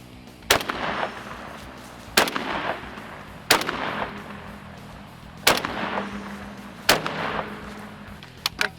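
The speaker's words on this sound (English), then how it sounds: "that's one-handed engagement while moving. I mean, I am shooting target loads" Five loud, sharp shotgun blasts ring out from a Canuck Spectre 12 gauge bullpup fired one-handed while moving with target loads, spaced about one to two seconds apart, each followed by a short echoing tail.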